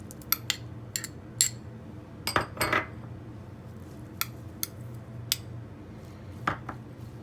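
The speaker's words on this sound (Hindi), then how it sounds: "टॉपिंग बनाने के लिए एक बाउल में हम प्याज, टमाटर और धनिया पत्ती को मिक्स कर लेंगे।" Utensils clink and scrape against a bowl as chopped onion, tomato and coriander are mixed for a masala papad topping, with sharp intermittent knocks spread over several seconds.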